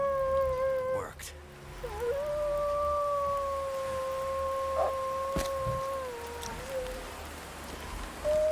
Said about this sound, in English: I just need to clear these wolves off the lake.